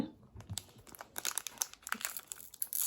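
Foil wrapper of a Dragon Ball Super card game booster pack, already damaged, crinkling and tearing open close up in a quick run of sharp rustles and rips, with no talk.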